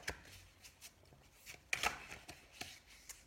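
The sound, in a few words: shuffling cards during a card reading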